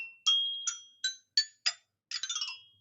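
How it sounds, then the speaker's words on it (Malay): Xylophone bars struck one at a time, about five bright, ringing single notes with short gaps, then a quick run of rapid notes. Each note is clear, close and short, with silence between the strikes. "Ini ialah xylofon yang bunyi dia macam ni"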